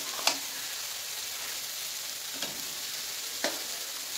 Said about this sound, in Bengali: মাংসটা আমি একটু ঢেকে ঢেকে কষাবো